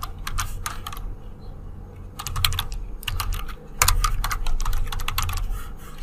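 Someone types a line on a computer keyboard, a close, crisp clatter of keystrokes in quick bursts with brief gaps, over a low steady hum. No one speaks.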